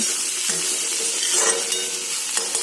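Continuous sizzling of fiddlehead fern greens and potatoes frying, with a few soft stirring scrapes in a pan, close and steady, without speech.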